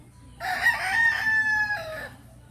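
A farm rooster crows loudly and close for about a second and a half, with a rising then falling drawn-out call over faint background chicken sounds.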